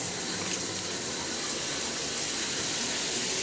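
A shower runs in a hotel bathroom at Cambria Suites Denver Airport, giving an even, unbroken hiss of spraying water that stays constant and close throughout, with no one speaking.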